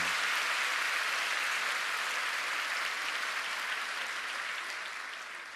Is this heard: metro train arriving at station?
no